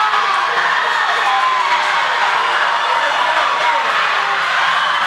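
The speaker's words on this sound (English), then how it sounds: "Definitely can hear the crowd. They are excited about this one." A crowd at a coed varsity high school swim meet cheers and shouts steadily and loudly during the final leg of a relay, a continuous roar with no pauses.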